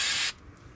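Brake cleaner is sprayed onto the front disc brake of a car in one loud, hissing blast of about a third of a second, which cuts off abruptly and leaves a quiet background.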